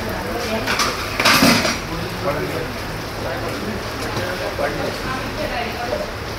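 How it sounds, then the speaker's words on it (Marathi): Dabeli buns sizzle as they are heated with butter on a griddle at a street food stall, a continuous crackle with metal scraping and clinking over it, while people talk in the background. "फेमस अशी दाबेली तयार होत आहे। तर छान अशी गरम करून देतात बटर टाकून तर क्रिस्पी राहते"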